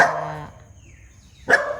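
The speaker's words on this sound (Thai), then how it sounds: "เสียงพี่หลงเห่าใครไม่รู้" A dog barks twice close by, a short sharp bark followed after a pause by another.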